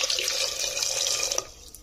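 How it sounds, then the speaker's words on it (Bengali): Water pours from a tap into a pot of washed potatoes, a close, steady splashing gush that cuts off after about a second and a half, leaving faint drips. "জল দিয়ে দিলাম"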